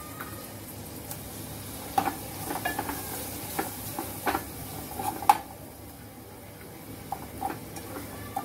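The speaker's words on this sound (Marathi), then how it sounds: "छान हे मसाल्यात आधी वाटण छान परतून घ्यायचं आपलं।" Ground masala paste is sautéed in a pan for a Pandharpuri-style amti, with a soft background sizzle under repeated light clinks and scrapes of a spoon against the pan, close and fairly quiet, with no voices.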